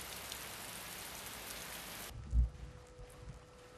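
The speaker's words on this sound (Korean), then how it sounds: "비가 유난히도 많이 내린 5월의 어느 날" Heavy rain falls on a May day as a dense, loud hiss that cuts off abruptly partway through. A dull thud follows in the quieter stretch.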